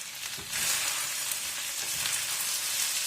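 Potatoes fry uncovered in a pan in a home kitchen, giving a steady, close crackling sizzle with a slight rise in intensity after the first half second, continuing evenly with no talking.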